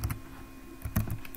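Typing on a computer keyboard, a few close clusters of key presses in short irregular bursts against a steady low hum.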